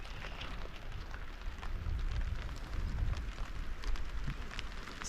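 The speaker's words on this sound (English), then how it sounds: "Starting to rain again." Steady rain patters on a surface at a backcountry lake campsite in Algonquin, a soft, even hiss with scattered droplet ticks, continuous throughout and fairly quiet.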